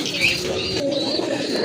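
Lahori pigeons cooing at a pigeon seller's stall, a steady low murmur of coos with a few faint chirps over busy background noise.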